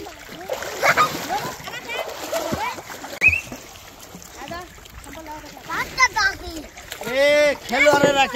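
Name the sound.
children splashing water while bathing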